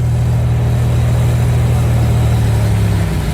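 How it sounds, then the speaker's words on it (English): Off-road truck engine drones loud and steady while an Axon winch pulls the vehicle during an off-road recovery, with a constant low hum and no talk. "Yeah, those freaking Axon, they are strong winches."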